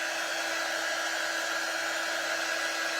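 A hair dryer blowing hot air to dry the bottom rows of a piece, a steady loud whooshing drone that runs unbroken and close throughout.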